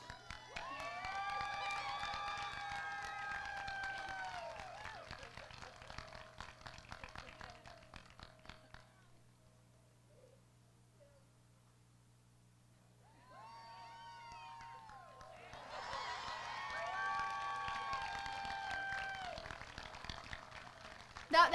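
Graduation ceremony audience for the BHS Class of 2024 cheering and whistling loudly, fading to near silence midway, then swelling again into sustained crowd cheers.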